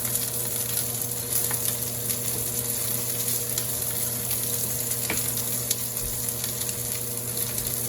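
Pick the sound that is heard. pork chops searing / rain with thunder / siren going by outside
pork chops searing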